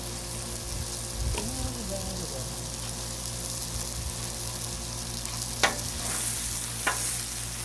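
Steady sizzling of ground beef frying on a hot Blackstone griddle, with occasional scraping and stirring clicks and faint voices in the background.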